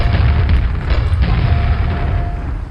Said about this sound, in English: Each should take 3 grenades to kill.